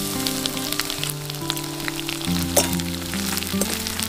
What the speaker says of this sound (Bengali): এবার আমরা নারকেলটাও ভেজে নেব।